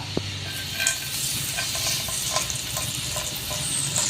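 Red wine hitting a hot pan just used to sear beef steak, a loud hissing sizzle that holds steady with small crackles throughout, no talking.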